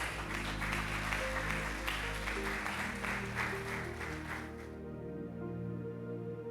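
A church congregation claps together for several seconds over a sustained musical backing, the applause fading out while the music carries on.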